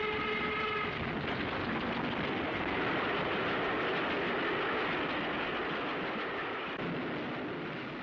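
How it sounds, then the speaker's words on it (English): A new LMS steam locomotive on its maiden Scottish run roars along the rails with a loud, steady rushing rumble, a brief whistle sounding at the start before the continuous running noise dominates. "It is the maiden journey of the new locomotive on the LMS Scottish Run."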